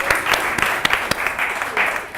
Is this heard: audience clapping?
yes